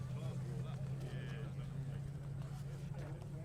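A Toyota Starlet rally car running on a flat tyre during a rally stage, giving a steady low engine drone with a rough, rumbling texture throughout.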